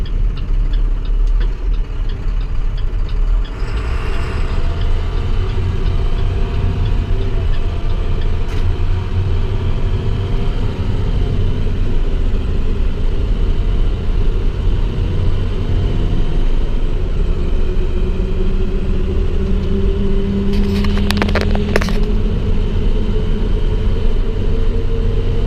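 An International Durastar truck with a 215 horsepower MaxxForce DT diesel drones steadily from inside the cab while driving, a continuous low rumble throughout with no talking.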